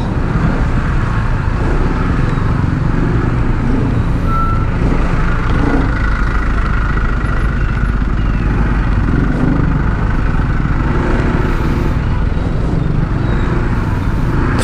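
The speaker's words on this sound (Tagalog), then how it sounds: "Traffic din dito." Busy Manila street traffic heard from a motorcycle, with trucks and cars rumbling and a reversing beep, loud and continuous throughout with no talking.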